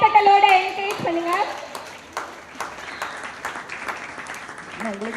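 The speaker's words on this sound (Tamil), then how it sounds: "ஒரு பலத்த கைத்தட்டலோட என்கரேஜ் பண்ணுங்க" Applause from an office gathering greeting an Employee of the Year 2026 announcement, loud at first and then easing into steady clapping, mixed with voices and some children's chatter throughout.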